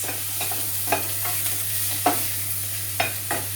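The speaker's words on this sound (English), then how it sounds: "I'm going to fry that off for about a minute" Sauce ingredients fry in a pan for a Christmas vegan Wellington, giving a steady close sizzle broken by a few sharp stirring clatters, with no voices.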